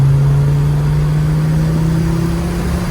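Audi five-cylinder engine swapped into a Porsche 944 pulling hard under acceleration, a loud, close droning tone rising steadily in pitch over a few seconds.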